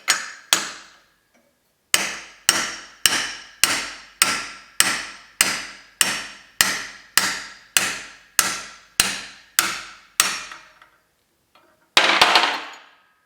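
About fifteen sharp, evenly spaced hammer blows ring out close by, striking a punch made from an old socket extension to drive a bushing out of a VW gearbox, then the strikes stop and a short clatter follows.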